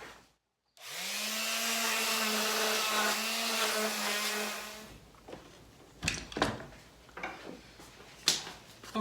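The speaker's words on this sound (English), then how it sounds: "I switched over to my corded sander, put some 180 grit in it." A corded sander loaded with 180 grit whines up and runs steadily for about four seconds on wooden console table legs, then stops, followed by scattered knocks and clunks of handling nearby.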